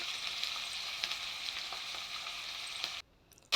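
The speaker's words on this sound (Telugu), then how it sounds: "ఆయిల్ వేడాక వేస్తున్నాను మనం కట్ చేసుకున్న పచ్చిమిర్చి ఆనియన్స్ అన్నీ" Chopped green chillies and onions fry in hot oil with a loud, continuous sizzle that cuts off abruptly near the end, leaving brief quiet before a last burst.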